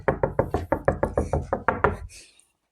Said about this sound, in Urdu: وہ واپس گھر گیا اور دروازے کو کھٹکھٹانے لگا۔